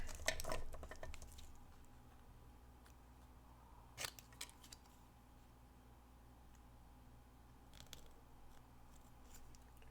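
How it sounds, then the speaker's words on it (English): Scissors snip a small paper triangle for a card banner: a couple of sharp crisp cuts, the first near the start and another a few seconds later, over a faint quiet room background. "I'll just take my scissors and cut a little triangle"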